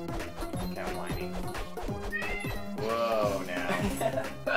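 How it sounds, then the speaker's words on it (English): A cat whines and yowls amid busy music and rhythmic thumping from the Castle Crashers video game, the drawn-out wail rising near the end over loud, dense game audio. "Cat whining."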